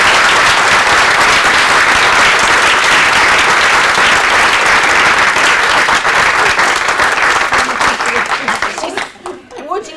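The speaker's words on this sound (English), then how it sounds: "a big round of applause" A large audience at a Leeds Improvement Method report-out gives a long, loud, dense round of applause that holds steady for several seconds, then fades and breaks off near the end.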